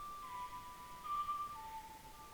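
In The Legend of Zelda: Ocarina of Time, a woman whistles a tune, a thin high melody of a few held notes that step downward, fairly faint over quiet background.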